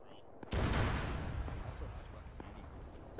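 A sudden heavy boom of artillery fire in an Arma 3 military simulation, a single loud blast that rolls away into a long decaying rumble.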